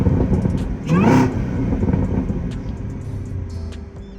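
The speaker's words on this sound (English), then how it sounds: "A couple revs for you." A Camaro engine with a stock exhaust revs up sharply once, rising in pitch, then settles back into a steady idle rumble; loud and close.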